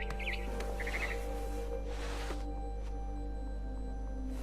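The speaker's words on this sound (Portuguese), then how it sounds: "Then I heard chirping outside my window." A barn swallow chirps in short, bright bursts near the start of a scene in the video game What Remains of Edith Finch, set against a steady low hum and soft ambient noise, with no talking.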